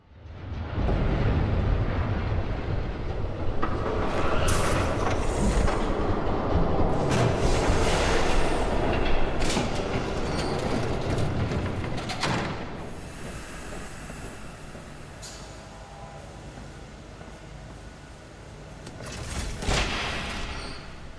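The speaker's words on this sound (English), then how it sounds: "There's a train coming. Take cover." A train approaches and rumbles past in Batman: The Telltale Series, a loud, heavy roar that builds, holds for several seconds with clanking bursts, then fades away.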